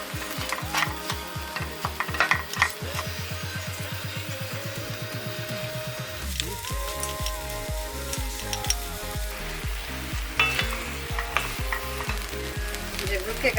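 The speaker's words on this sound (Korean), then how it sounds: "여기서부터 옆에서 지키면서 이 물기가 없어질 때까지 이렇게 졸여줄 겁니다" Red beans and sugar simmer in a pot as the liquid cooks down, stirred steadily, with a continuous bubbling sizzle and rhythmic scraping strokes close by, alone with no voices.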